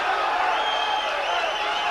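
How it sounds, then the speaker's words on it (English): Boxing crowd at a heavyweight bout cheers and whoops loudly and steadily, a dense wall of voices filling the arena with no break. "Draws some cheers from the crowd."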